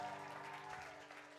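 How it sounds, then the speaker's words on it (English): A youth group audience applauds for two leaders celebrating birthdays, a faint, steady wash of clapping that holds for the whole moment and fades slightly toward the end. "You guys give them a round of applause."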